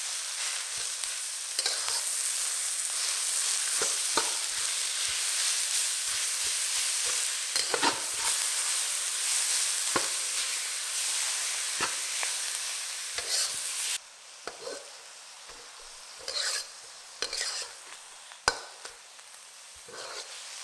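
Minced meat frying in a pan while being broken up with a utensil, a continuous bright sizzle broken by frequent sharp scraping and tapping strokes that grow sparser and quieter toward the end, with no talking.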